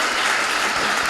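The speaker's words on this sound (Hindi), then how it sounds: "ताली आप लोग बजा सकते हैं" Audience applause at a felicitation function for JEE Advanced 2023 students: a dense, steady wash of clapping from a crowd indoors, loud and continuous throughout.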